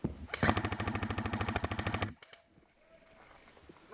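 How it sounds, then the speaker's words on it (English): Rapid bursts from airsoft guns, including a replica PPSh-41, fired simultaneously in an outdoor skirmish, a dense loud rattle for about two seconds, then a few sparse pops and quiet background. "We're both shooting at the same time."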